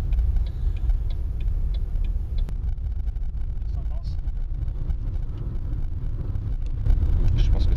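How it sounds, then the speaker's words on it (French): Turn signal clicking inside an electric-converted Citroën Saxo, a soft regular ticking at a steady pace under the low road rumble of the moving car, with someone speaking at times. "Clignotant à droite."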